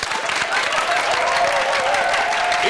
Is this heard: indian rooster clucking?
no